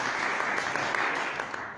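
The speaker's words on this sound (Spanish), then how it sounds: "Denle un aplauso a su Dios en esta tarde." Church congregation applauding together, a dense, steady wash of clapping that holds at an even level throughout, with a faint voice mixed in underneath.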